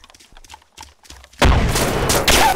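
A grenade blast in the ArmA 2 ACE military shooter, a sudden loud explosion that follows a stretch of faint voice chat and sustains a rumbling tail with a second burst near the end.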